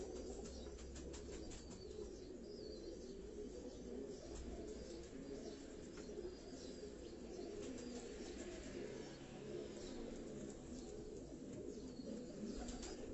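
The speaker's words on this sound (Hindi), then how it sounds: "ये तमाम उनके ब्रीडर कबूतर जो हैं ये आपको दिखाए जा रहे हैं" Soft, low cooing of breeder pigeons on a Karachi rooftop rolls on continuously, several birds overlapping, with faint chirps and occasional wing flutters in the background.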